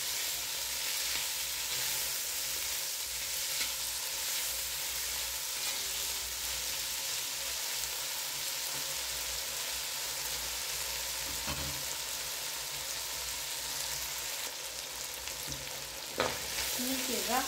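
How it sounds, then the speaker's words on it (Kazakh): Onion, carrot, potato, cabbage, garlic and bell pepper fry for a manti filling, a steady dense sizzle throughout with occasional stirring scrapes near the end. "Барлығын жақсылап қуырамыз."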